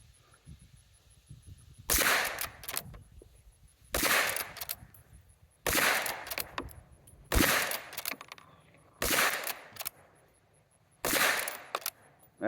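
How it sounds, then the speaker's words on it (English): A Tisas 5.7 pistol fires seven loud, sharp shots outdoors at a steady pace, one about every two seconds, each with a short ringing tail and no talking. "Alright, let's see if it shoots."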